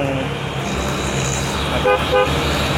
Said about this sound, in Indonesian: Banyak sekali truk lewat